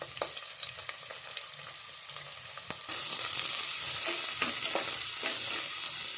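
Chopped onion sizzles and crackles steadily in hot oil, and partway through the frying noise grows louder and brighter, with occasional stirring scrapes.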